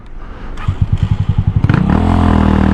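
A Champion 150cc motorcycle engine puts out a rapid string of loud, close exhaust pulses, then revs up into a sustained, rising drone during a test ride.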